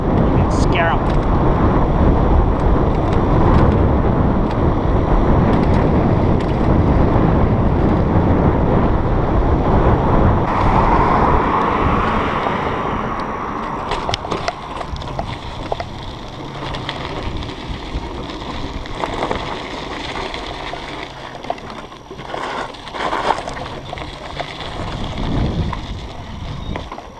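Ride on an Emmo Urban S electric scooter with its fenders removed: continuous loud rushing wind and road roar from the moving scooter, easing somewhat partway through, with no talking heard.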